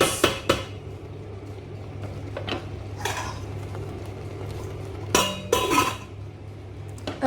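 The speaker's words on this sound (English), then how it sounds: "So I'll just put the lid on the pot." A lid is set onto a cooking pot of barbecue chicken, giving a few close metallic clinks and clatters over a low kitchen hum and faint sizzle.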